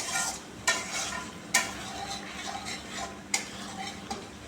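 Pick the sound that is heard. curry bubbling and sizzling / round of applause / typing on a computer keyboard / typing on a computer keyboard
curry bubbling and sizzling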